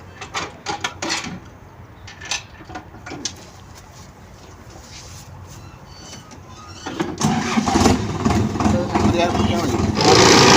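A farm engine cranks and catches, rising into a loud, steady rumbling run after a stretch of scattered knocks and background noise, with birds cooing nearby and someone talking early on.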